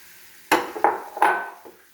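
Lemon pickle ingredients mixed in a bowl, with three distinct wet scraping strokes at close range, fairly loud and separated by short pauses.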